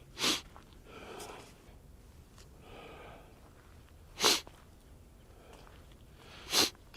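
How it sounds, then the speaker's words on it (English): A person outdoors in muddy ground sniffles sharply three times, spaced a few seconds apart, close and loud against quiet breathing and faint background between the sniffs. "Sorry for the sniffling, guys."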